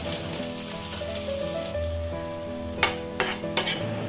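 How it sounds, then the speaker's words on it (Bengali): Chopped ginger and garlic frying in oil with whole spices such as black pepper and cumin while making chilli chicken, a steady close sizzle with stirring and a few sharp spatula scrapes near the end. "এগুলো ভাজা হওয়ার পরে আমি এখানে দিয়ে দিয়েছি আদা কুচি আর রসুন কুচি"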